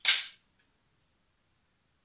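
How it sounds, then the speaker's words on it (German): An empty Canik TP9 Elite Combat FDE pistol being cocked gives one sharp, close metallic snap that fades within a fraction of a second, followed by silence. "man spannt die Waffe, sie ist aber leer"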